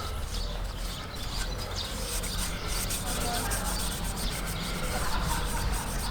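Steady abrasive scrubbing of light surface rust on a motorcycle chain, a continuous close rubbing hiss that holds an even level throughout, with no talk.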